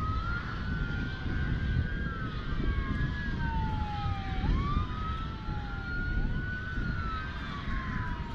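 An ambulance siren wails at a busy airport, rising and falling sweeps continuing steadily at a moderate distance over a constant low rumble of engine and jet noise.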